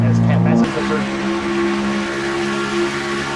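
A Ford Thunderbird stock car races for the lead in a Castrol GTX Cup Series event, its engine a sustained tonal whine with a louder burst at the start, continuing steadily under a commentator's voice.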